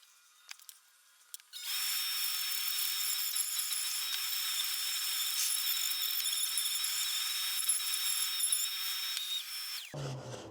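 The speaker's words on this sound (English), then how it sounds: "just sandpaper cut into squares and put on a Dremel tool" Dremel tool fitted with squares of sandpaper sanding the grooves of a carved wooden birdhouse, a high, steady, whining buzz starting abruptly after a few faint knocks, running loud and close before cutting off.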